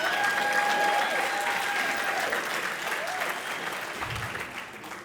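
Audience applause for award recipients at a school academic excellence banquet, a broad steady wash of clapping that gradually softens, with a faint voice briefly audible.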